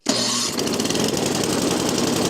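A snow removal machine's combustion engine turns over and catches, a brief start-up burst settling into a loud, close, steady running rumble with no voices.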